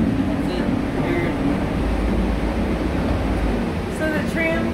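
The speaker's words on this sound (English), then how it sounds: "So the tram goes to Mirage, Treasure Island. Back and forth." Las Vegas tram running between Treasure Island and Mirage: a steady, loud low rumble and rolling drone fill the whole stretch, with faint squeals and murmured voices of riders near the end.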